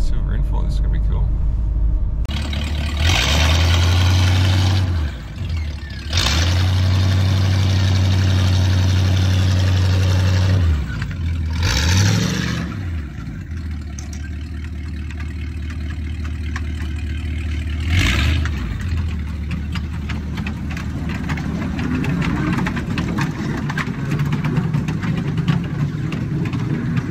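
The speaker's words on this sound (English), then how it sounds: "What we have here is called a universal carrier." A 1941 World War II universal carrier tank idles and revs in a street setting, its engine a low, clattering rumble with brief surges, while someone talks over it.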